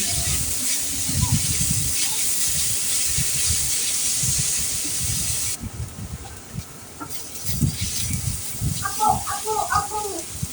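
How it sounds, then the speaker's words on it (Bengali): Onions fry in oil with cardamom, cinnamon and bay leaf for a chicken roast, giving a continuous close hiss and sizzle that eases off partway through. Someone talks over the frying at intervals. "এখন পেঁয়াজগুলো আমি একটু ভালো করে ভেজে নেব"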